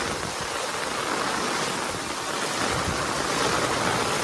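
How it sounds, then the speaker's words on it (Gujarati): Floodwater pours out of flooded houses in Meghna society, Keshod, a loud, steady rushing wash with no letup, with no voices over it. "આ તમે જો ઘરોમાંથી પાણી આવે છે."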